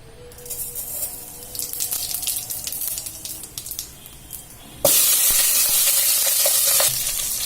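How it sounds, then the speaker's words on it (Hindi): Cumin seeds hit hot oil in a pan while cooking veg biryani, starting with a light sizzle and stirring clatter, then bursting into a loud, dense, steady sizzle partway through, with no voices. "तो सबसे पहले हम इसमें जीरा डालेंगे"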